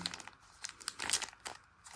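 Sticky tape peeling and crinkling off during bead-kit work: short, close, dry rustling and tearing crackles in quick bursts, faint, with no talk.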